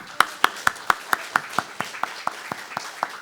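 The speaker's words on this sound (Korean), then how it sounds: "박수." Congregation clapping in unison at a Sunday worship service in a fasting prayer house, about a dozen even, rhythmic claps that start sharp and fade slightly toward the end.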